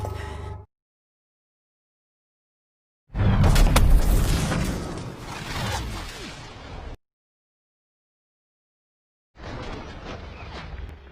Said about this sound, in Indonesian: Dan terjadilah ledakan besar yang tak terelakkan.